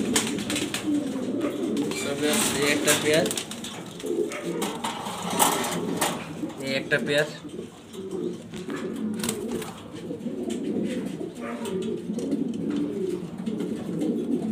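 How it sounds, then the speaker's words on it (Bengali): Jharna Shating pigeons coo in rolling low bursts throughout, close and fairly loud, while someone speaks briefly over them and wing rustles and cage clatter come and go. "ঝর্ণা শাটিং কবুতর।"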